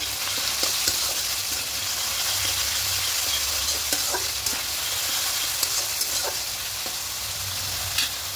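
Pomfret curry paste mixed with salt, sizzling and frying steadily in a pan, with soft scraping of a spoon stirring through it and a few light clinks, no voices.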